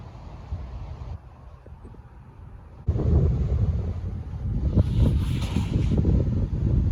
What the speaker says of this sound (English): Maybe I'll just keep the natural wind noise in here.